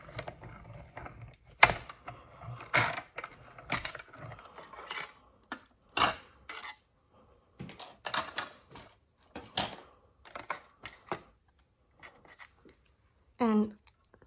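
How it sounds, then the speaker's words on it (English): A mini die cut and emboss machine working through a paper card-making die: intermittent mechanical clicks, ratchets and thumps in uneven bursts, with quiet gaps between them. "we're gonna run it through the mini cut and emboss machine again"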